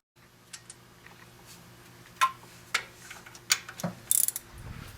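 A socket ratchet clicks while someone works on the carburetor of a 1968 Chevy C10, giving a few sharp, close ratcheting bursts and clacks over a low steady hum.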